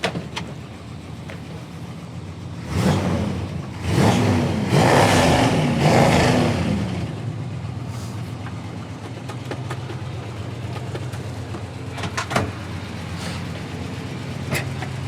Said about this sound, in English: Chad and I are excited to check out and test drive this 1973 Plymouth Satellite